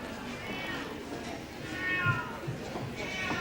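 Cats meow at a judged cat show, a couple of drawn-out mewing cries rising over a low murmur of voices in the room.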